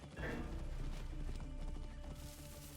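Hooves of a ridden horse in Assassin's Creed Origins drum steadily under a dense, loud game soundscape, a continuous clip-clop rhythm with no pause.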